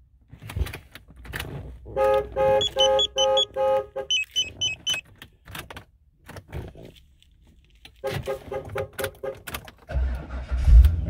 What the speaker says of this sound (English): As we start it up,